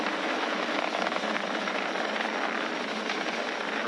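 Falcon 9 rocket engines during ascent as they throttle down, a broad, steady roaring rumble, loud and continuous, heard at a distance with no talk over it.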